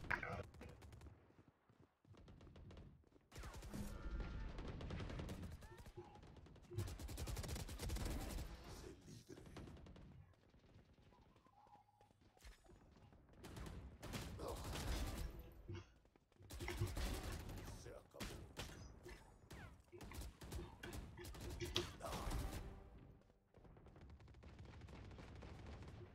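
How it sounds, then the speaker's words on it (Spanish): Gunfire from a Valorant ranked match comes in repeated bursts of rapid shots separated by quieter gaps. A player talks over and between the shooting. "como ves esos tiros"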